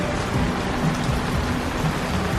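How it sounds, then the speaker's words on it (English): Steady rain patters across the deck of the P&O Britannia cruise ship, a dense, even hiss with soft low rumbles underneath, continuous and fairly close, with no voices. "Maybe raining a little bit."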